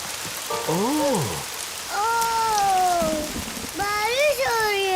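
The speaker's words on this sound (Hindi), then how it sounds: "बारिश हो रही है।" Rain falls in a steady soft hiss in a cartoon picnic scene, running beneath expressive, sing-song voices of animated characters.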